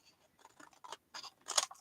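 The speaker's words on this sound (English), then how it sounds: "I'm taking my scissors and I'm trimming along the edge" Scissors trim along the edge of a sheet of cardstock in a quiet room, making a handful of soft, crisp snips that grow slightly louder toward the end.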